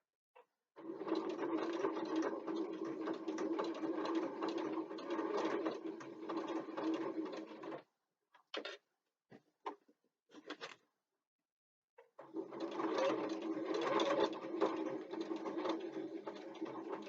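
Sewing machine stitching fabric for a bookbag backpack, running in two long steady bursts of rapid mechanical clatter. Brief stop-start stitches fall between them, moderately close and with no voices.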